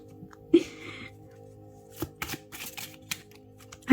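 Tarot cards shuffled and drawn, heard as quiet papery riffles and flicks with a few sharper slaps and snaps as cards land, close by under a low background hum.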